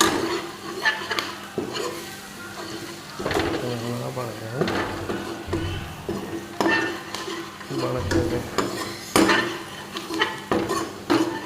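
Food is stirred in a metal pan with ghee, a spoon scraping and clinking against the pan in an irregular rhythm with faint sizzling, while a voice talks over it at times.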